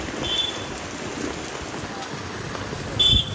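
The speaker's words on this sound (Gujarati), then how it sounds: "કપડા લેતા હતા ને વરસાદ શરૂ થઈ ગયો છે" Steady rain falls throughout, a continuous soft hiss with occasional louder patters; no one speaks.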